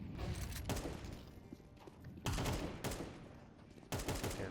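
Bursts of rifle fire in Counter-Strike 2 as a player pre-fires standard angles around a window, several loud clustered volleys separated by brief pauses over a low game background.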